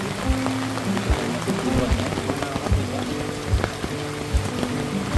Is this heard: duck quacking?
no